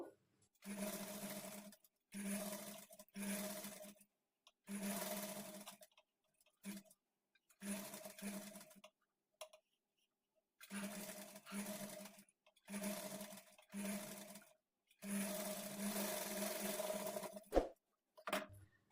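A sewing machine stitches a halter neck blouse, the fabric folded inward along the seam. It sounds close and loud: a series of short whirring bursts, each a few seconds long, separated by brief pauses, with no talk.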